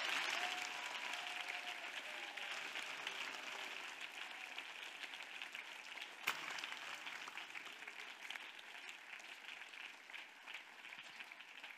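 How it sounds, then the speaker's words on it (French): A church congregation clapping and applauding steadily throughout, a dense wash of hands heard from within the crowd, with one sharp louder clap midway. "Yes, clap, clap."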